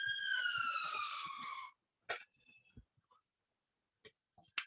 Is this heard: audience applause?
no